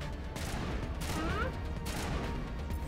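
Gunfire from squad combat in the Mass Effect video game, faint repeated shots and bursts in the distance under a steady game background.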